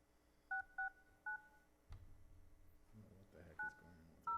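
Touch-tone dialing beeps on a council meeting conference phone line, several short dual-tone presses in an uneven sequence, fairly faint over a low background hum with some muffled noise between.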